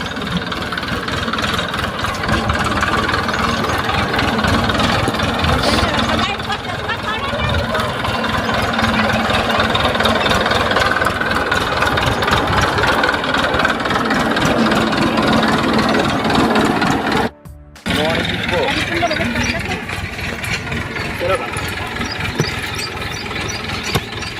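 A farm tractor engine runs steadily, a loud continuous mechanical drone with rough grinding texture, close by, briefly cutting out near the end before resuming.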